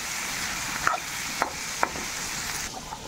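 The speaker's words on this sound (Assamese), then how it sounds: "এতিয়া মই ভাজি ল'ম গোটেইবিলাক" Fish frying in hot oil in a home kitchen, a soft steady sizzle close by, broken by a few sharp clicks of a utensil against the pan, with no talk.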